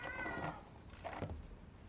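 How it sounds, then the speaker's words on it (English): Homer, a Siamese cat in the video game Forspoken, gives two close, clear meows, the first longer and drawn out, the second shorter, over quiet background. "A Siamese cat"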